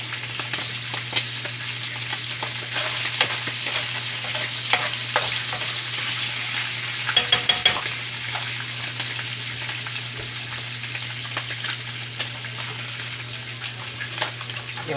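Shrimp fry in hot oil in a pan for a spicy home-cooked dish, giving a steady, dense sizzle throughout, broken by a few brief scrapes and clinks of stirring.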